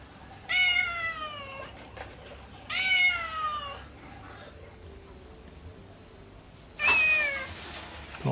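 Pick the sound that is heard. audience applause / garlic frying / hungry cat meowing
hungry cat meowing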